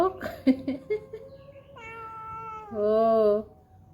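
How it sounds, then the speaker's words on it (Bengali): A cat meows several times in a row, close by, the later meows drawn out and louder, ending in a long insistent cry. "সবাইকে একটু ম্যাও বলো তো"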